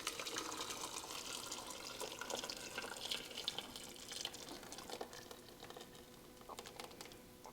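Tomato juice mixed with chicken drippings is poured from one pot into another, making a soft, faint liquid splash and patter that runs on with small irregular drips.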